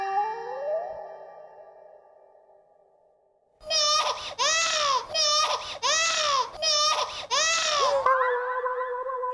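Infant crying in a Hindi TV comedy serial scene, a loud rhythmic series of wailing bursts after a quieter opening of background tones, the sobs repeating steadily and close by.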